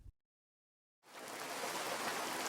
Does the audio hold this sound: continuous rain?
yes